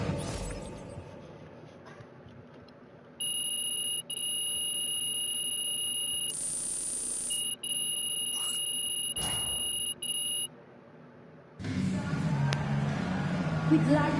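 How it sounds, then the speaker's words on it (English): A basketball game's final buzzer blares as a loud, sustained electronic tone for several seconds amid arena crowd noise, which swells again once the buzzer stops. "Final buzzer sounds"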